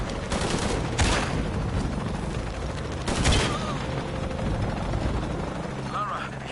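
Helicopter rotor noise in the video game Shadow of the Tomb Raider, a loud steady broadband roar with bursts of gunfire, continuing throughout under game sound effects.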